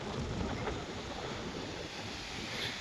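Wind blows across open farm fields near a canal, making a faint, continuous rushing roar that buffets the microphone without pause.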